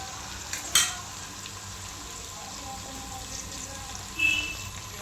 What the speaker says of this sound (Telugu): ఆయిల్లో ఫ్రై చేసుకోవాలండి. ఇందులోనే పచ్చిమిర్చి కూడా వేసుకుందాము